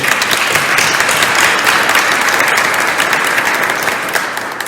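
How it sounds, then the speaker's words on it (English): Church congregation applauding during a ministry celebration service, loud sustained clapping from a room full of people that tapers off toward the end. "So perhaps we can give her a nice round of applause."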